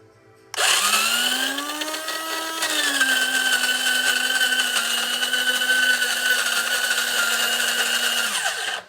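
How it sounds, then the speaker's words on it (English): A home espresso machine grinds coffee beans with a loud, steady motor whine that kicks in abruptly, dips in pitch briefly near the start, then holds evenly for about eight seconds before spinning down. "that's already going to go ahead and grind all your espresso"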